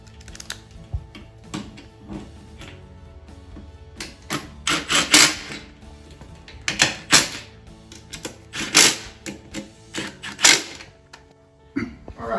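Bolts are tightened on a Linear 861 garage door operator's motor head, giving irregular sharp metallic clicks and ratcheting taps in bursts, close up and without talk.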